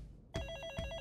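A telephone rings in the video game Hi-Fi Rush, sounding as a sudden bright electronic trill that pulses in quick repeated bursts after a short silence, loud and close.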